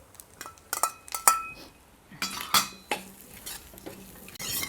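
Dry fruits and nuts — raisins, cut figs, cashews, almonds, pistachios — roasting in ghee in a pan, stirred with a metal spoon that scrapes and clinks against it in irregular bursts, with faint background sizzle.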